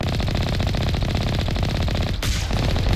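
Enemy turrets in the video game Mass Effect fire in rapid, continuous automatic bursts, loud and dense, with a brief break before the shooting resumes.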